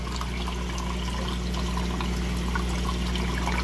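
Water churns and swirls through a homemade sand filter, a constant close rushing wash with a low steady hum beneath and no voices.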